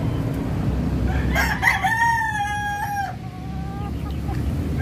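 A broodstag rooster crows once, loud and close, a drawn-out call over steady farmyard background noise.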